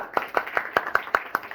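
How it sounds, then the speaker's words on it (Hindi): Audience clapping at a village gathering in Pradhanpur Jalalpur, Jaunpur, heard as a rapid series of about eight sharp, evenly spaced claps that are loud and close, with no talk over them. "एक बार ताली बजा दीजिए।"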